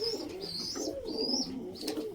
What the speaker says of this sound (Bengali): আপনাদের একটা ম্যাড্রাস পায়রার জোড়া দেখাচ্ছি